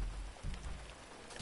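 Steady rain falls in a dense, even hiss, with a soft low rumble beneath it, close by and alone without voices.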